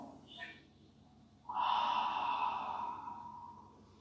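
A steady mouth exhale during a singing-bowl meditation, following a brief earlier breath sound; the out-breath swells at about one and a half seconds and fades slowly, fairly close and alone without talk.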